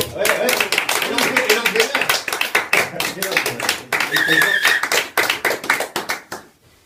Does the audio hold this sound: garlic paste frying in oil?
no